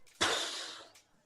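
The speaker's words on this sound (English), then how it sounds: "like steam or air leaking." A sharp burst of hissing air, like steam or air leaking, starts abruptly and fades over about a second, fairly quiet and close with no talk.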